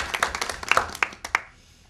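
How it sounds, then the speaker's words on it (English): Brief scattered clapping from an audience at a 2007 academic conference on Ukrainian Modernism, a dozen or so sharp claps that thin out and fade within about a second and a half, with no voices. "I want to give her a special round of applause."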